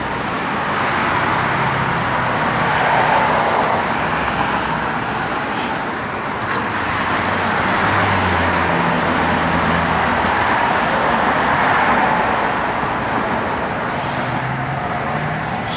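A 1970 Chevrolet Chevelle SS with a pump gas engine runs steadily, giving a continuous, even rumble close by with no voices over it.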